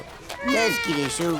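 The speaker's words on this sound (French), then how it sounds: "c'est le chat de Titeuf" A cartoon cat from the Titeuf animated series meows in a few short rising and falling cries, heard clearly close up while a voice speaks over part of it.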